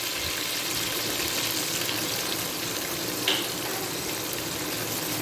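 Water splashes into a hot pan of frying garlic, ginger and green chili paste, setting off a steady, loud sizzle with a brief spatter midway.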